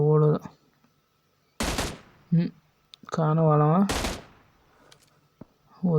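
Gunfire in the BGMI battle royale game, sharp bursts of automatic shots crackling in short volleys, loud and close, mixed with a voice speaking between the bursts.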